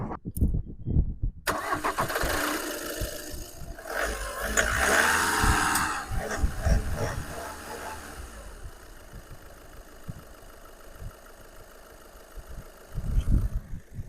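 A Volkswagen Vento diesel engine cranks and starts after a few clicks, revs briefly, then settles into a steady, low diesel idle close by.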